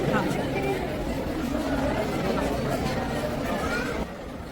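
A dense crowd of pilgrims at the Omkareshwar Jyotirlinga temple fills the air with a steady, close babble of many voices, continuous throughout with no single voice standing out.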